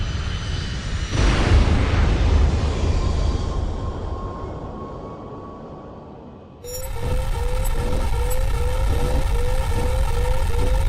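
A plane explodes in the video game Tom Clancy's H.A.W.X. 2, a loud roaring blast that fades out, then gives way to a droning engine with a repeating rising alarm tone.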